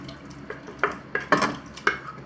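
Cooked moong dal and boiled potato pieces are tipped into a pot of simmering vegetable sothi, several soft plops and a ladle knocking and stirring against the pot, close and without talk.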